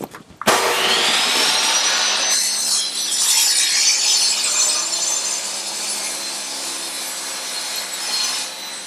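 A wooden scrap is squared on a table saw sled, the saw cutting in a steady loud whine for nearly the whole stretch after a short start, with no talk.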